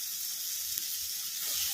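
Curry base frying in oil in a pan sizzles with a steady, bright hiss as turmeric powder goes in, faint soft stirring underneath, no voices.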